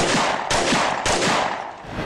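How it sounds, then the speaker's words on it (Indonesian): Three loud gunshots fired in quick succession about half a second apart, each followed by a short echoing decay. "Lalu tiba-tiba terdengar 3 letusan."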